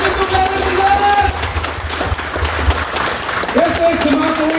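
A church congregation at a joint worship and healing service claps warmly in steady applause. Crowd noise and voices mix with the clapping throughout.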